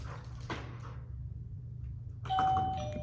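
A single clear bell chime, rung by a dog trained to signal going outside, rings out and sustains briefly, loud and close, after a quiet stretch with low background hum.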